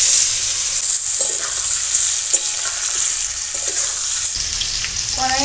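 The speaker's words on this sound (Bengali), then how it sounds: "আলু আর পেঁপেগুলো দিয়ে দিচ্ছি।" Potatoes and papaya sizzle in a wok over a tempering of bay leaf, dried red chilli and radhuni: a loud, continuous frying crackle with a few soft stirring scrapes and no voices.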